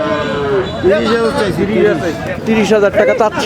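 A calf lows several times with drawn-out bellowing calls at a busy cattle market in Ranir Bandar, Dinajpur, as people talk over it and crowd chatter fills the background.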